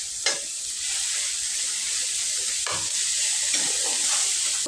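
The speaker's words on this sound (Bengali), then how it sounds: "রসুন পেঁয়াজগুলো দিয়ে দেবো।" Garlic and onions fry in hot oil in a pan for a Bengali eggplant and fish curry, giving a constant close sizzle broken by a few sharp stirring clatters of a spatula, with no voices.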